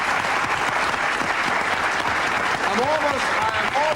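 Studio audience at a daytime talk show bursts into dense, loud applause that carries on throughout, with a few cheers rising near the end.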